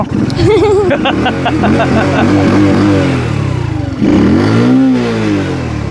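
A new motorcycle's engine revs up and down close by, loud throaty rising and falling pitch with a second burst of acceleration, while people talk over it.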